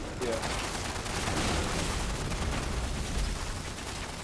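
Machine gun fire in the video game Fallout 76, a dense continuous rattle of rapid shots mixed with other combat noise, steady and fairly loud throughout.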